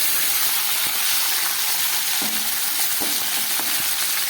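Cauliflower florets, soaked in salt and turmeric water, fry in a pan with a loud, continuous sizzle and crackle, a few soft knocks of stirring breaking through the hiss.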